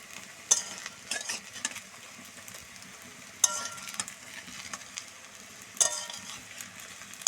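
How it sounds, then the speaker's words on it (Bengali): Drumstick flower fritters sizzle in hot oil in a wok, with a steady frying hiss broken by three sharp clinks and scrapes as they are flipped, close by and without speech. "আর এক পিঠটা ভাজা হয়ে গেছে, উল্টে নিচ্ছি আরেক পিঠটা।"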